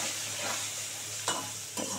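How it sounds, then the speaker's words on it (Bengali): Potato pieces fry in a pan with a little turmeric, giving a steady soft sizzle throughout, with two brief scraping stirs of a spatula near the end. "এবার এটাকে ভালো করে আলুগুলো সুন্দর করে লাল করে ভাজবো।"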